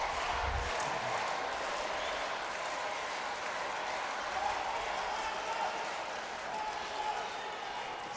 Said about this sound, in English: It only took one guy to start shouting Elmar, and the whole crowd joined in